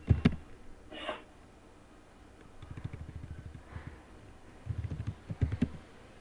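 Computer keyboard typing while entering Cisco IOS router configuration commands: a short burst of keystrokes, then two clusters of rapid, close-up clicks separated by quiet gaps.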